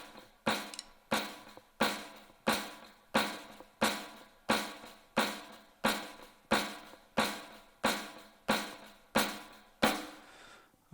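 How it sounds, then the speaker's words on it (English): Steady, evenly spaced drum double strokes with the accent on the second note, about one per second, each sharp attack followed by a short decay, played alone and fairly close. "Doubles with the accent on the second note."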